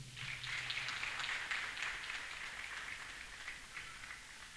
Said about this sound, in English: Another big round of applause for Mr. Namazimba